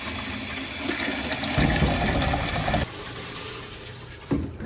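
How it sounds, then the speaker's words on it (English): Strong high-pressure water jets blast through a sieve of cucumber seeds, a steady loud rushing spray that swells, drops off abruptly partway through, then surges briefly again near the end. "I'm gonna start rinsing using high enough pressure and the right sized sieve to blast away everything but the seeds."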